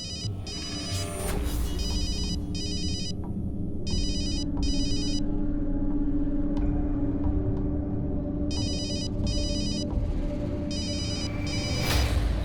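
A phone rings in repeated paired bursts of electronic trilling, loud and close, with pauses between rings over a low background hum.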